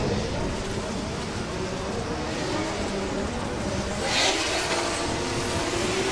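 Drift cars battling at a British Drift Championships Pro-Am round at Teesside, engines droning in a dense, continuous roar with throttle feathering and a brief tyre squeal near the end.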